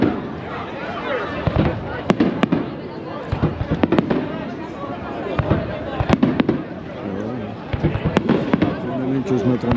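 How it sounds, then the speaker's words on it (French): New Year fireworks exploding outdoors, a series of sharp, loud bangs and crackles at irregular intervals over a murmuring crowd, with people talking nearby. "À chaque explosion du feu, on passe du vert au rouge,"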